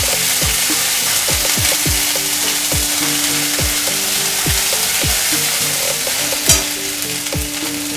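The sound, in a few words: ginger paste frying in oil with mustard and cumin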